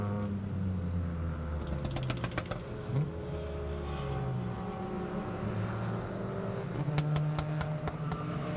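A race car on a hot lap at New Jersey Motorsports Park, its engine droning steadily and loud throughout, with pitch rising and dropping through shifts and corners, and no talk.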